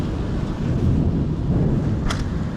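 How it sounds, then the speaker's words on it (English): Distant thunder rolls as a low, continuous rumble, mixed with wind-like noise, with no voices. "That's thunder."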